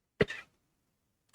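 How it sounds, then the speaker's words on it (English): One short, throaty cough comes close to the mic in an otherwise quiet room, followed by silence. "Got a cough."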